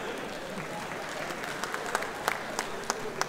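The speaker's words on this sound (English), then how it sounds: "if you want to clap, you can always clap" A stand-up comedy audience claps steadily, a dense patter of many hands with a few louder sharp claps standing out near the end.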